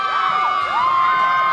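Crowd cheering and whooping at a high school football state championship as the Oxford Yellow Jackets win, a dense, loud, continuous roar with high shrieking voices rising and falling throughout.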